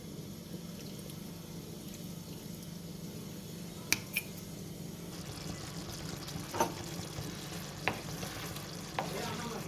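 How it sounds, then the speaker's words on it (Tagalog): Vinegar poured into a pot of goat adobo cooking with its broth, a steady low bubbling sizzle throughout, broken by a few sharp clinks near the middle and end. "maglagay ako ng vinegar. Lagyan natin."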